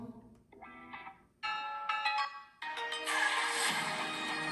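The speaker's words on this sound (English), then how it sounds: "and here is the new ringtone." Samsung Galaxy S24 phone playing a ringtone, a bright bell-like melody that starts softly and builds in separate phrases into a louder, fuller chiming passage, with no talk.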